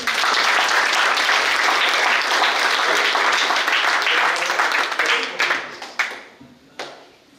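Loud, dense applause from a seminar audience clapping for their own participation, steady for about five seconds and then thinning into a few scattered claps that die away.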